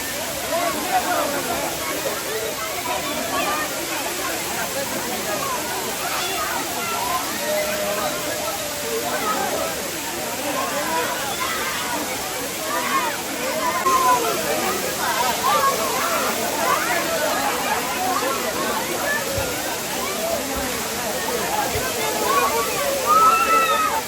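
Water from a bathing waterfall in Tenkasi pours down in a steady, dense roar that fills the whole stretch, with faint voices beneath it.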